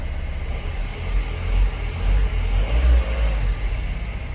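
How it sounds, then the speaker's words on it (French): A car engine, fitted with a new alternator, runs steadily as a mid-pitched idle with a deep low rumble and slight swells in loudness, heard close and alone without speech. "On va démarrer l'auto"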